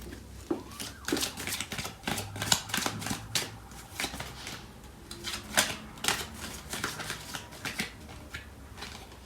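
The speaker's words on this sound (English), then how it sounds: "So I'm gonna pull out some cards from the other deck." Tarot cards are shuffled and pulled from a deck, a steady run of soft riffling flicks and papery taps going on close by, with no talk.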